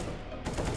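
Gunfire in a Counter-Strike style competitive shooter match, a dense burst of overlapping shots that swells louder in the second half and stays busy throughout, with no speech.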